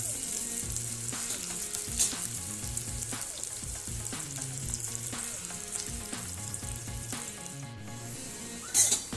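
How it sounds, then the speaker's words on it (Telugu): Onion and green chili pieces fry in a pan, a steady close sizzle with repeated soft stirring scrapes and a couple of sharper clinks near the start and end. "తర్వాత ఆనియన్ ముక్కలు, పచ్చిమిరపకాయ ముక్కలు, ఇవన్నీ వేయించుకోవాలి."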